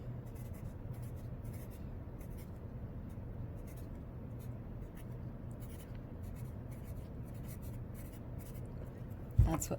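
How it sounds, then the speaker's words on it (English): Handwriting on paper, a steady faint scratching and rubbing of pen strokes continuing throughout, close and quiet, with a sharp knock near the end. "That's all I'm going to write for that one right there."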